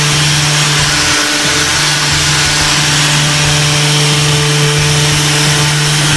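A power sander runs steadily across a cabinet door in a workshop, a loud, close, constant whirring drone with a fixed tone and no pauses.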